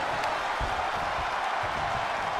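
A wrestling crowd at a live triple-threat match roars in a steady, dense wall of cheering and noise that holds loud and unbroken throughout.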